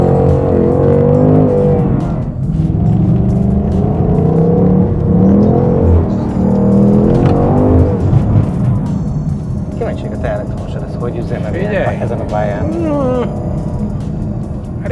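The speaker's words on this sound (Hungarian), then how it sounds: "Zúg, hallott, hangos, erős, hátsó kerék dolgozik." A Ford Mustang Mach 1 engine roars and rumbles steadily throughout, loud and close, with a person talking over it.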